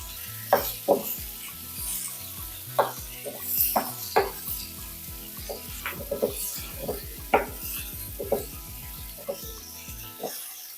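Shallots and tomato sautéing in a pan, with a steady sizzle under repeated sharp clinks and scrapes of a spoon stirring against the metal, close and moderately loud, no voices.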